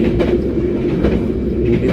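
The KA Sawunggalih train runs fast on its rails, a loud continuous rumble with rhythmic clatter from the wheels, heard from on board without any talk.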